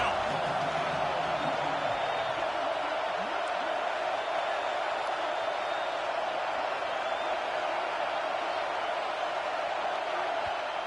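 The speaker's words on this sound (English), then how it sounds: "This crowd rising up, sensing that its defense needs some help." Football stadium crowd at a Notre Dame versus Florida State game rising in a steady, loud roar of cheering and noise, sustained throughout with no break.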